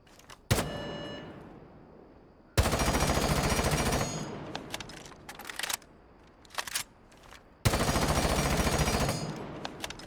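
Gun with a muzzle brake attachment in Rainbow Six Siege: a single shot, then long loud full-auto bursts separated by short taps and pauses, close and without talk.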